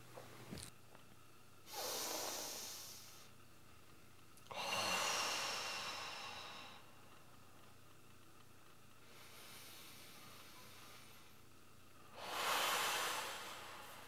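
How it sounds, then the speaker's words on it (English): Deep diaphragmatic yoga breathing through the nose, filling stomach, rib cage and upper lungs in turn: three long, airy breaths sound close up, separated by quiet pauses. "Let me turn to the side once and show you the diaphragmatic breath from the side."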